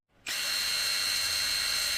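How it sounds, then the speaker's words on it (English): An electric drill machine starts up and runs at a steady high whine, drilling through marked points on a glass jar lid, loud and close with no talk. "drill through those 2 marked points using a drill machine"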